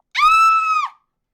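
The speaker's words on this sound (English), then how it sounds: "Mrs. White's scream can still be heard." Mrs. White lets out a single sustained scream, loud and close, held for under a second before cutting off cleanly, with no other sound around it.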